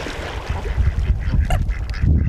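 A goose honks with an arrow lodged in its neck at a San Dimas park, giving scattered honks and quacks over noisy outdoor wind and background rumble.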